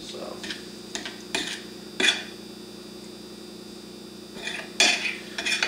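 Utensils clink and scrape against a bowl while tuna salad is mixed, a few sharp irregular knocks spaced apart over a quiet background.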